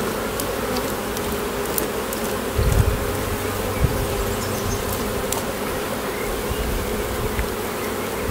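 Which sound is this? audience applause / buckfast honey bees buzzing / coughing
buckfast honey bees buzzing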